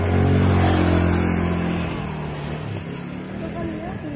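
A motorcycle engine revs loudly nearby on an uphill road and then fades gradually as it moves away, with a person talking over it.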